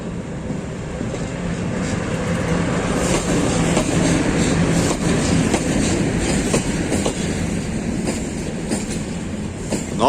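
A train runs along the rails, its wagons rolling past with a steady clickety-clack and occasional faint wheel squeal, the rumble swelling mid-pass and holding loud, with no voices.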